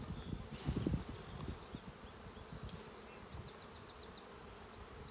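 Honey bees buzz steadily around an open hive frame during hive inspection work, a dense continuous insect drone with a louder swell near the start and no talking.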